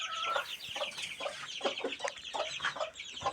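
Chickens cluck repeatedly and close by, a steady run of short calls from hens kept with chicks raised from their own eggs, with no talk over them.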